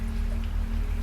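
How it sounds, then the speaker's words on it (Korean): Heavy rain pours outside in a steady, dense patter over a low background hum, a brief stretch of continuous downpour with no voices. "밖에선 폭우가 쏟아지고 있다."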